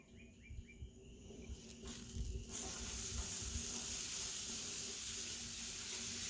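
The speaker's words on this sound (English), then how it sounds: "Gotta love that sizzle." Onions and peppers sizzle on a hot flat-top griddle, starting with some scraping and clatter, then swelling into a steady, loud crackling hiss close by.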